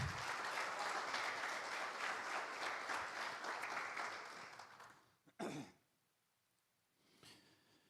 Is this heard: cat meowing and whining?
no